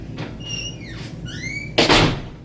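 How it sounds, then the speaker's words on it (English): A bathroom door is opened to let a cat out, with sharp rising hinge squeaks followed by a loud, close thud as the door swings and bumps. "That's the bathroom door."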